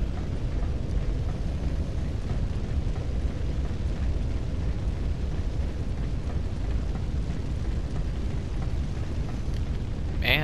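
Fire burns in Dark Souls 3, with a dense, steady roar and crackle. It stays loud and unbroken the whole time, like an eruption of flames.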